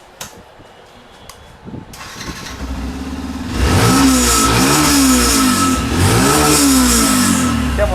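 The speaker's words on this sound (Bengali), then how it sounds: "ইয়ামার সাউন্ড শুনলে তো কানটা জোড়া যায় এটা বিএস সিক্স ইঞ্জিন ভাই বিএস সিক্স জি এই জন্য একটু সাইলেন্সার থেকে একজস্ট সাউন্ড আসে" A used Yamaha motorcycle with a BS6 engine sits quietly at first, then revs up, its exhaust rising to a loud, close, steady roar with repeated swells in pitch as the throttle is worked.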